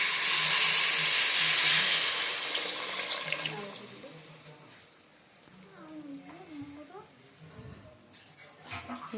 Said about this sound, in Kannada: ಈ ರೀತಿ ಫ್ರೈ ಮಾಡಿದ ನಂತರ ಅದಕ್ಕೆ ತಕ್ಕಷ್ಟು ನೀರನ್ನು ಹಾಕಬೇಕು.